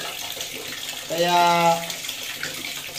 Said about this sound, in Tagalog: Ganda, malakas pa yung tulo.